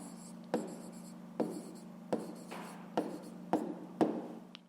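Pen writing out an answer by hand on paper during a fifth-grade maths exercise, heard as six separate scratchy strokes at a steady pace, close and fairly quiet with no talking.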